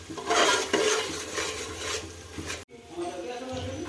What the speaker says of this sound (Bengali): তো বন্ধুরা মশলা এখন ভালো করে কষানো হয়ে গেছে।